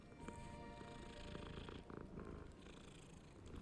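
A cat in the video game Hogwarts Legacy purring continuously, a steady close rumbling purr throughout with faint game ambience behind it.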